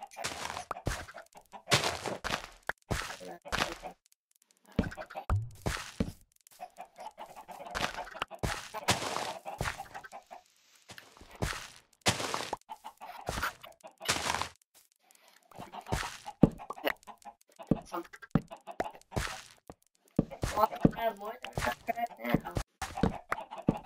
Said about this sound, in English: See, I haven't even been feeding the chickens.